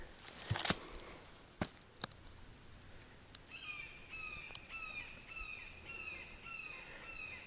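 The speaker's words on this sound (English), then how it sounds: "Sounds like a hawk soaring around up there." A hawk soaring overhead gives a series of thin, descending screeching calls at a distance on a forest hiking trail, repeated several times over faint background noise and a few knocks.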